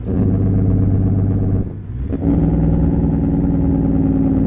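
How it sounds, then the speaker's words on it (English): A Kenworth W900 truck engine in American Truck Simulator drones loudly and steadily, briefly dips and falters, then returns with a deeper, rumbling tone as the engine brake engages. "What's the engine brake sound like?"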